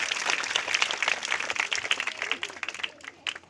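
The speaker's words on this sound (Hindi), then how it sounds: "एक बार जोरदार ताली बजा के इनका स्वागत कर दो।" A crowd at a village gathering in Mohabbatpur claps loudly to welcome a speaker. The dense applause holds steady, then thins into scattered claps and fades toward the end.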